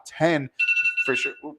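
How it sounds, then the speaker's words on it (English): A phone alarm rings in a short electronic burst with a steady tone, set between spoken voices. "that's my alarm"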